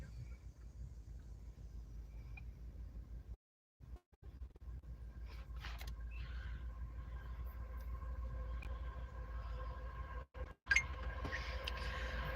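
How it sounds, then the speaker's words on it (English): A CSX freight train rolls past in Stone Ridge, Ohio, a heavy low rumble with steady metallic wheel noise and occasional squeals and clanks, sustained throughout with brief dropouts. "we have a train coming."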